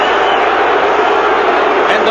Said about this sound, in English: And the Britishers in the crowd react.